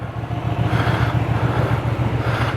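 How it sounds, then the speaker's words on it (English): A Hyosung GV250 motorcycle, a barn-find bike, idles steadily right after being kickstarted, its low rhythmic engine thrum loud and close with no talk over it. "bike's running lovely"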